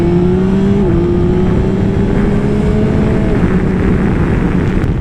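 2021 Yamaha Tracer 9 GT motorcycle engine with standard exhaust, a loud, close, continuous growl held at steady revs with a slight pitch shift early on, no talking.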